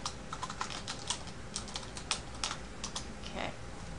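Rapid typing on a computer keyboard while entering text in an Excel spreadsheet, a close, steady run of light key clicks with brief pauses between bursts, no voices.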